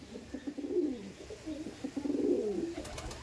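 A pair of Madrasi high-flying pigeons coo in low, rolling phrases, two swelling calls close by and moderately loud with no voices over them.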